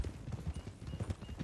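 Horse hooves clip-clop at a steady trotting rhythm in Red Dead Redemption 2, quiet and fairly close, with no talk over them.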